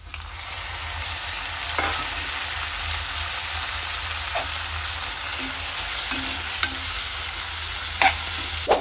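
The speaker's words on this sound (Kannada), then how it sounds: "ಟೊಮೆಟೊನೂ ಅಷ್ಟೇ ಪೂರ ಬೇಯೋ ತನಕ ನಾವು ಅದನ್ನು ಲೋ ಸ್ಟೀಮಲ್ಲಿ ತಿರುಗಿಸ್ತಾ ಇರಬೇಕು" Tomatoes and onions frying in oil hiss with a constant, even sizzle while a utensil stirs them, giving occasional soft scrapes and taps against the pan, close up with no one talking.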